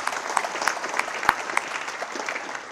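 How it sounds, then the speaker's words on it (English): An audience at a university event on Latinx politics claps for alumni donors, a moderate, scattered round of applause with a few sharp individual claps standing out. "So let's give them a round of applause generally."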